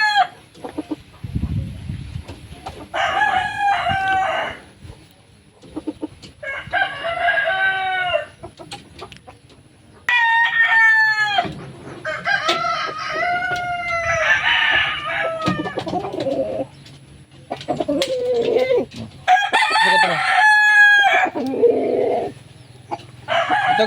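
Roosters, kept as fighting cocks, crow loudly and repeatedly nearby, one call after another with little pause, while hens cluck in the gaps.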